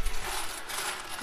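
Metal coins clatter and jingle as they drop and slide inside a coin pusher arcade machine, a dense bright rattling that lasts about a second, close and fairly loud, with no talking.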